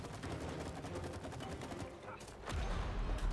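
Explosions and rapid bursts of gunfire-like blasts from the video game It Takes Two, popping in quick succession, then a heavier rumbling boom toward the end.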